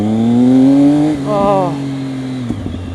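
A motorcycle engine revs steadily and loudly up close, its pitch rising then easing off, with a voice briefly speaking over it.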